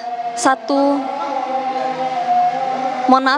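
An ambulance siren sounds as it arrives at the Kramat Jati police hospital, a loud electronic wail with sharp pitch sweeps and sustained tones, close and clear over a quiet background.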